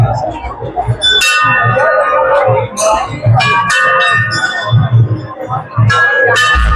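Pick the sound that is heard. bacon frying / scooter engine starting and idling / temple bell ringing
temple bell ringing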